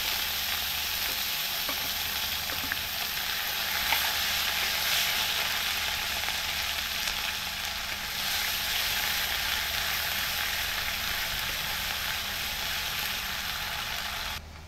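Onion paste and green chili paste frying in hot oil for a Bengali chicken kosha, a steady, dense sizzle that holds level from start to finish with faint scraping underneath.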